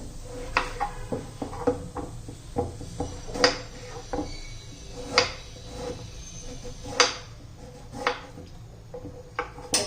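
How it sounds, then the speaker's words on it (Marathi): Peeled bottle gourd being chopped on a board, a steady run of crisp knife knocks at an uneven pace, close and fairly loud, with no voices. "ह्या पद्धतीने असा भोपळा मी आता चिरून घेते"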